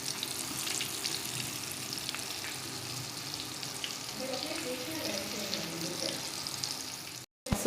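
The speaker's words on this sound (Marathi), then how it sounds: "सगळेच तसे फ्राय करायला ठेवू" Flour-coated fish frying slowly in a pan over low heat, a steady close hiss of oil with bubbling crackles throughout, cut off by a brief dropout near the end.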